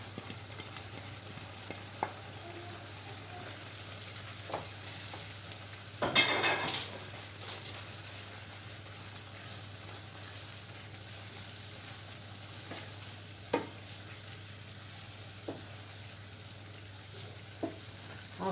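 Grated carrots and garlic fry quietly in a pan for a tuna pasta tomato sauce, a soft steady crackle with a brief louder burst of sizzling partway through and a few isolated clinks.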